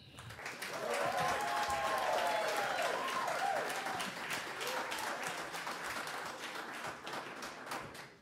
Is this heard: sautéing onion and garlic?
no